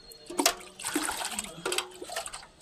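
Water splashes and trickles onto a plant in a few short bursts, close by, with brief pauses between pours.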